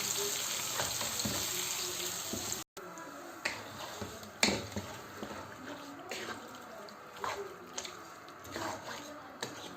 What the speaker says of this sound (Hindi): अब इस ऑयल को मैं उस चिकन में डाल के उसको भूनूंगी।